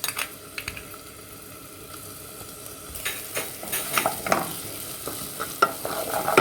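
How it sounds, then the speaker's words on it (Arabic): Garlic hits hot oil previously used to fry onions, starting as a quiet hiss and swelling after a few seconds into a louder, busier sizzle with clattering stirs. "هزينا شويه الزيت اللي حمرنا فيه البصل وغنديروا فيه الثوم"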